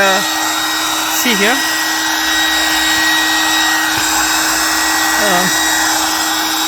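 An electric car air pump motor plugged into a cigarette lighter whirs steadily and loudly as it inflates a car mattress, a constant high whine close by, with a voice talking briefly over it.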